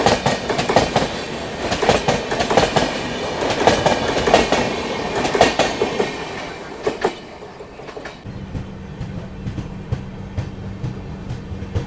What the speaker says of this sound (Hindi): ये बगल से निकल रही है गुवाहाटी LTT एक्सप्रेस।